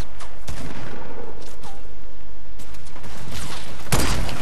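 Gunfire rattles in Fortnite, with loud, dense bursts of shots and booming impacts, including a sharp heavy blast near the end, and little talk over it.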